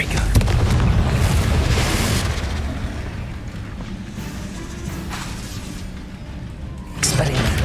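The Confringo fire spell goes off in the game Hogwarts Legacy with a loud, rumbling boom that fades into a crackling roar, then a second sharp blast bursts near the end.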